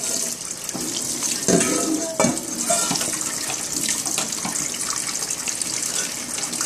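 Tap water runs steadily into a kitchen sink while dishes are washed by hand, a close, continuous rushing splash with a few brief clatters of crockery.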